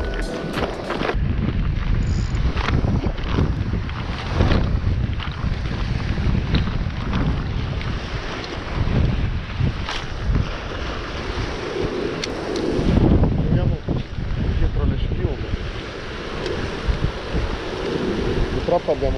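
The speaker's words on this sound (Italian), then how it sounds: "Purtroppo abbiamo un po' di vento" Wind at sea buffets the microphone on a small fishing boat during light spinning for barracuda, a steady rushing roar with water slapping the hull, lasting throughout and heard alone.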